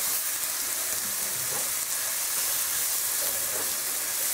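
Onions frying in a small splash of oil in a pot give a steady, soft sizzle that runs unbroken, close and fairly quiet, with no voices over it.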